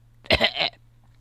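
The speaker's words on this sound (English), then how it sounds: "That started out as a real cough" A single abrupt cough from a person that quickly turns into a rough, throaty sound, close and loud against a quiet background.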